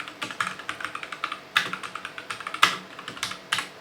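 Commands typed on a computer keyboard for network device configuration, a quick run of crisp close keystrokes with a few louder spacebar or enter presses, no talking.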